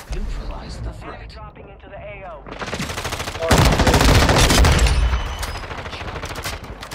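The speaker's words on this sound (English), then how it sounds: "You're just firing." Rapid automatic gunfire in the video game Warzone, loud, dense bursts that grow heavier midway and mix with voices talking over the shooting.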